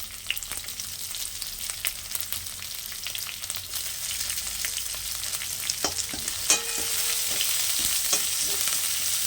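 Green chillies frying in hot oil as a tempering for beetroot palya, a continuous close sizzle with scattered crackles and pops, growing slightly louder and denser toward the end, with no talk.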